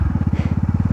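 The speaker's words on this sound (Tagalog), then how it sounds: "Libo-libo lang gamit ang motor." A motorcycle rides along a baywalk in Lingayen, Pangasinan, its engine putting out a rapid, regular low throb, close and loud, with no talk over it.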